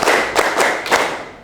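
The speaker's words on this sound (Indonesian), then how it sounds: "Coba tepuk satu." Schoolchildren clap the 'tepuk satu' classroom rhythm: three crisp, close group claps spaced a fraction of a second apart over a low background hum, then the room settles.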